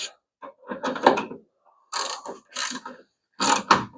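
A ratchet tightens a bolt on a coil-over shock mount of a 1975 Plymouth. It makes several short, close bursts of rapid clicking separated by brief pauses.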